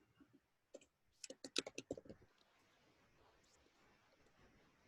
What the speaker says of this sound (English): let me just type for a second